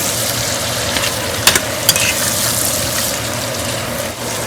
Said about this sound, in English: So we're going to fry the meat a little bit.